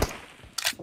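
A single gunshot in the mobile battle-royale shooter PUBG Mobile, team deathmatch arena mode: a sharp burst at the start, then a second brighter crack about halfway through, short and fairly close.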